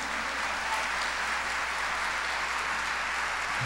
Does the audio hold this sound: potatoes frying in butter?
no